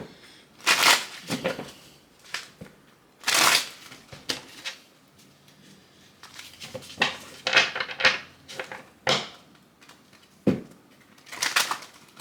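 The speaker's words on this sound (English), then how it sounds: "Let me go ahead and shuffle." Cards are shuffled in repeated bursts of riffling and slapping, close and fairly loud, with short pauses between rounds.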